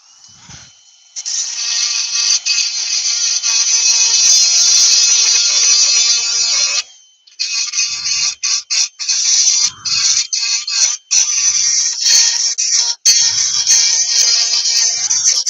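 A Dremel rotary tool fitted with a bit whirs with a steady high-pitched whine during a live woodturning session on laburnum, running continuously for several seconds, then cutting in and out in short bursts with brief pauses.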